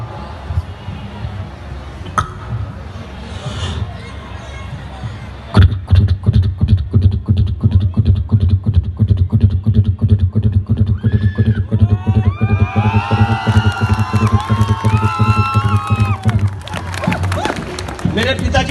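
A voice imitates a galloping horse before a live comedy audience: after some speech, rapid rhythmic clip-clop beats start abruptly and run steadily, with neighing, whinny-like cries rising over them partway through.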